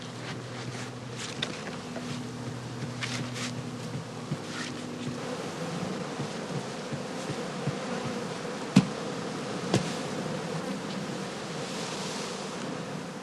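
Honeybees buzz around straw skeps in a steady, continuous drone that rises to a louder hum in places, with a couple of sharp clicks and no talk.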